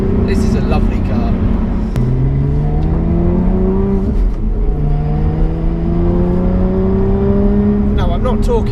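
A Lotus Evora sports car driving on a wet road, its engine note rising and falling through gear changes with a strong steady drone and tyre and road noise, heard from inside the car.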